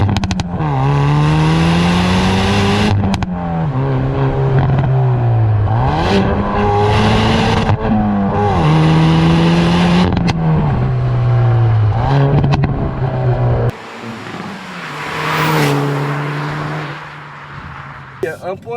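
A Hyundai i30N Performance exhaust, close up, revving repeatedly with rising and falling engine pitch, then a quieter stretch with some pops and crackle near the end.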